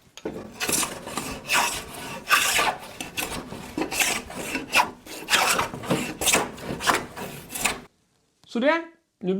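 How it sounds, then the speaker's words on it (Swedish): Repeated rasping strokes of a hand plane across wooden boards, rhythmic and close, ending with a brief pause and a short voice. "jag går över bägge två med hyven lite lätt bara"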